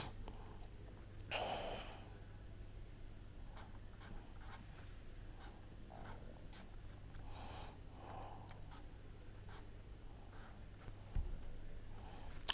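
Pen or marker scratching across a surface while a chemical structure is drawn, in short strokes with pauses and a couple of faint breaths, close and fairly quiet.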